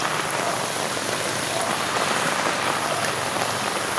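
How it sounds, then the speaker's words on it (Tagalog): Heavy rain pours steadily during a typhoon flood, a dense, continuous roar of drops on surfaces with no pauses and no voices. "Malakas pa yung ulan."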